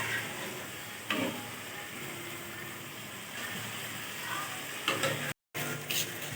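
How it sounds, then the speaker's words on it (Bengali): Paneer pieces drop into a spiced masala for palak paneer, giving a steady sizzle with a few scraping stirs and brief clatters, closely heard and without talk. "এবার পনিরগুলো তুলে তুলে দিচ্ছে এর মধ্যে।"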